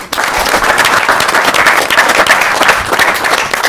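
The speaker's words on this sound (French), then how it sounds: "Applaudissements." A French audience applauds loudly and steadily in dense, continuous clapping after a prize announcement at a robotics club event, with no pauses and no voices breaking through.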